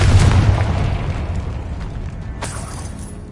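A Confringo fire spell blasts in Hogwarts Legacy, a single loud booming explosion up front that rolls off into a fading rumble, with a sharp burst near the end.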